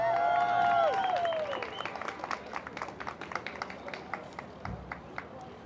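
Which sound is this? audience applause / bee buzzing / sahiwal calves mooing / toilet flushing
audience applause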